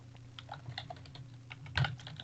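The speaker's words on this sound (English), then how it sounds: "typing away" Fingers tap rapidly on a computer keyboard, producing quiet, close, irregular clicks over a low background hum. One louder cluster of keystrokes stands out near the end.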